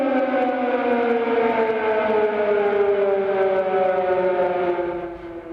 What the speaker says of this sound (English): That siren has become a very familiar sound. It is the country's raid warnings.